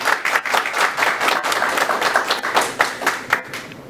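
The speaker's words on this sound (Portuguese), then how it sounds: "Vamos receber com uma salva de palmas o professor César Nunes." An audience at a teachers' congress lecture in Brazil claps to welcome a professor to the stage, producing a lively mix of individual sharp claps over a fuller applause.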